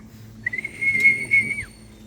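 A pet bird gives one sustained, steady whistle lasting about a second, clear and fairly loud, after a few soft taps, with little else around it.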